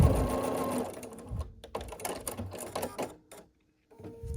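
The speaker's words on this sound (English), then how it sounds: "And when that is in place, I'll continue stitching forward." Sewing machine stitching a seam on a quilt block, bursts of rapid mechanical whirring with short pauses and a brief silence before it starts again.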